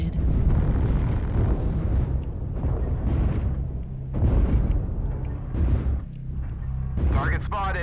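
Repeated heavy artillery strike explosions in MechWarrior Online, a dense series of loud booming bursts rolling one into the next, with a voice talking underneath and a brief electronic warble near the end.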